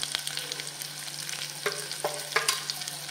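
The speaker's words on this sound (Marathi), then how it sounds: "हा सुद्धा ह्याच्यामध्ये मिक्स करून घेऊया आणि थोडासा जस्ट 30 ते 40 सेकंद परतून घ्यायचा" Leftover masala is stir-fried into softened stuffed ridge gourd in a pan, a steady sizzle broken by repeated scraping and clinking strokes of a spatula.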